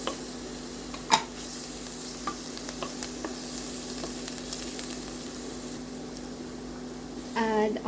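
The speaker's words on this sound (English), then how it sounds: "fry our onion. Add the garlic." Onion and garlic fry in a pan for a ground meat and vegetable dish, a steady close sizzle with a few sharp utensil clicks and a brief scrape near the end.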